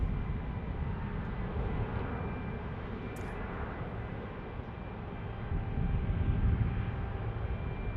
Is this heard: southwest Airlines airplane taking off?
yes